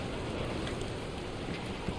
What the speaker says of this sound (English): Oh no, I think it's gonna rain all the time, isn't it?